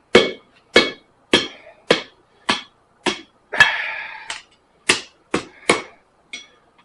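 A hammer forges a horseshoe on a homemade anvil built from flat steel. About eleven sharp, ringing metallic strikes land at a steady, fairly even pace, loud and close, with no other sound between them.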